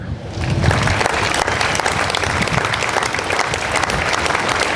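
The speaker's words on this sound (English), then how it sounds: "a round of applause for Sandy Ware" A large outdoor crowd at the 2015 Strassenfest opening ceremony bursts into thick, sustained applause that swells quickly and stays loud and continuous.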